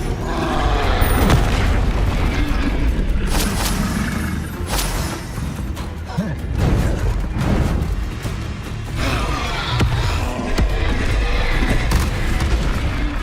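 Dense, continuous booms and blasts from Bombarda spells in the Hogwarts Legacy video game, with loud overlapping explosions filling the whole stretch and no clear pauses.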